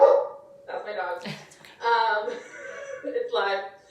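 A pet dog barks in short yipping bursts, close and fairly loud, repeating several times over about four seconds, with a person talking nearby.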